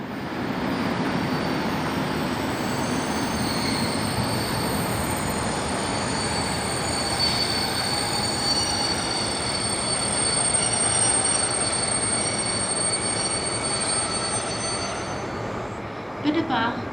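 Class 219 diesel locomotive 219029 pulls a regional train in from Leipzig, wheels squealing loudly and steadily against the rails for the whole stretch, with a rumbling roll beneath and a brief knock near the end.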